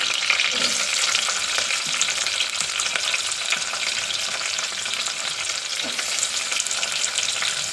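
Onions frying in a pan of hot oil for egg biryani, a loud, continuous close sizzle with faint stirring scrapes and no talking.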